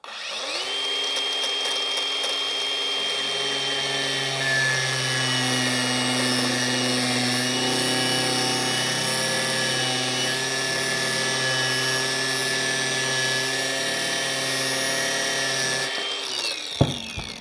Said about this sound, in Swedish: Jag drar av den med vinkelslipen och så punktar jag fast den här längre bak.